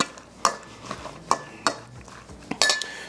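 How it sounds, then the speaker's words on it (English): Onion salsa is stirred and scraped in a larger bowl, with a spoon giving several distinct clinks and knocks against the bowl over faint background noise, no talking. "I need a bigger bowl to mix this up. We'll get that all mixed up"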